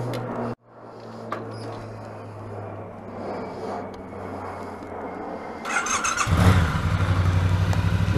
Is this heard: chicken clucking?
no